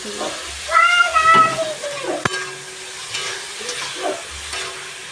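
Boiled peas and potatoes hit hot oil in a pan and are stirred, giving a soft, steady sizzle with scraping stirs. A cat meows a couple of times near the start, and a sharp clack is heard midway.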